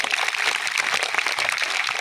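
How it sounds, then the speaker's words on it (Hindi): A crowd at a public event in a canal colony in Fatehpur gives loud, sustained applause, a steady wash of many hands clapping throughout. "आप लोग जोरदार तालियों से स्वागत करें"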